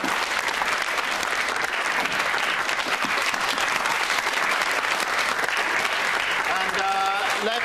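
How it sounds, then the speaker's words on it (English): An audience gives a long, steady round of applause, a dense continuous wash of clapping with a voice briefly audible near the end. "Round of applause for Dale."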